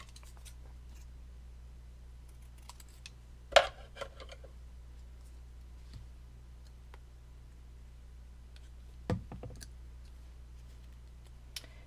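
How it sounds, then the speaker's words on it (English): Scissors trimming a handmade card decoration, with two quiet, separate snips several seconds apart over faint light clicking in a calm room. "I'm going to trim it off a little bit"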